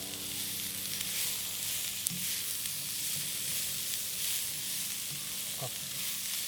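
Shrimp and asparagus frying in a pan for a stir fry give off a steady, close sizzle with soft clinks of stirring, and no voices are heard.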